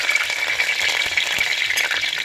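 Curry leaves and fenugreek seeds fry in hot coconut oil, giving a dense, continuous crackling sizzle, close and loud with no talking.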